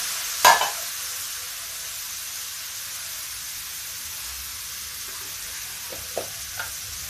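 Boiled chana dal hits a hot pan with a loud sizzling burst and then keeps frying in a steady hiss, with a few scraping stirs near the end and no talking.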